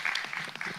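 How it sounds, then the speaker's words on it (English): Audience applause closing a session at an international customs conference in Indonesia, a brief dense burst of clapping filling the whole moment at steady volume. "Let's give them a big warm of applause."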